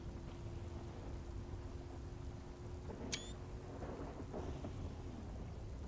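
Distant thunderstorm with a steady low rumble of rain and a faint far-off roll of thunder, fairly quiet and continuous with no talk.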